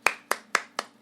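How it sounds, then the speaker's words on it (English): Five sharp, single hand claps sound close and clean at an even pace, each a crisp isolated slap over near silence. "Give a hand clap."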